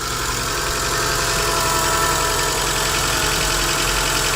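A used car engine, freshly repaired with new hydraulic lifters, idles steadily outdoors in damp, cool weather, a continuous close mechanical hum with a faint rhythmic tick and no voices over it.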